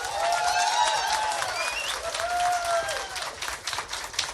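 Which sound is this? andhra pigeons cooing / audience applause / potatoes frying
audience applause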